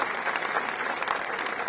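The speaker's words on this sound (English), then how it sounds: "a round of applause for our colleagues" Audience applause at a press event announcing Missouri's move to the Southeastern Conference, a brief, steady wash of dense clapping at moderate level with no voices over it.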